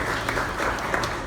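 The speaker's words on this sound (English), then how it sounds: "Everyone, please give Clayton a round of applause." A brief burst of audience applause at a hemp business event, steady and fairly close, with a few sharper individual claps standing out.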